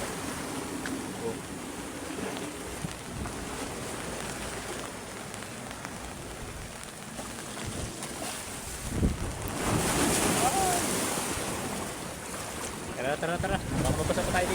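Broad, rushing surf noise of ocean waves on a rocky shore fills the scene, swelling louder midway as a wave breaks close by, with wind buffeting the microphone.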